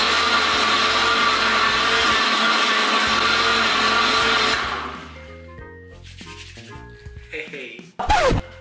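A blender runs loud and steady for about four and a half seconds mixing a homemade smoothie, then cuts off, leaving quieter kitchen clatter and a short sharp knock near the end.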